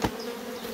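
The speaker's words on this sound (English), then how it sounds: "try and shake off as many bees as we possibly can" Honey bees buzz in a dense, steady drone as they are shaken off a hive box, opening with a brief knock before the swarm hum carries on alone.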